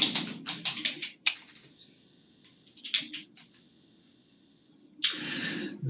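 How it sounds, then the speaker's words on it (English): Rapid clicking keystrokes on a computer keyboard while filling in an online application form, coming in several quick bursts separated by pauses, close and fairly quiet over a low background hum. "I start typing in the name."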